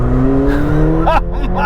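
A McLaren 720S engine, loud and close, with a steady idle drone that rises into a brief throttle blip near the end.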